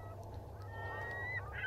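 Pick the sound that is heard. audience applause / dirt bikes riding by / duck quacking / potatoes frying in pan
duck quacking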